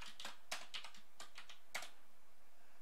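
Quiet keystrokes on a computer keyboard, a handful of separate clicks in short uneven bursts, close but faint against near silence.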